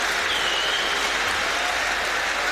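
An arena crowd applauds a fight winner with sustained, dense clapping at a steady level, a continuous wash of hands with faint cheering mixed in.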